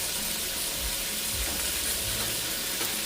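Food sears in a hot pan with a loud, even, unbroken sizzle heard up close throughout, and no one speaks.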